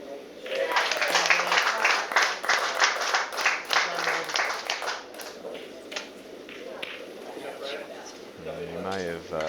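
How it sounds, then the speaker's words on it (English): Scattered clapping as a women's bowls match ends at the national championships, a patter of hand claps that fades out over a few seconds, heard with speech alongside. "You may have heard some clapping in the background, and that was one of the ladies' matches coming to conclusion."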